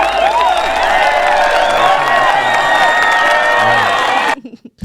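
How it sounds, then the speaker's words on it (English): A crowd at a hip-hop show in Virginia greets a guest with loud cheering, whoops and shouts over clapping, a dense roar that holds steady before cutting off abruptly near the end. "Round of applause for"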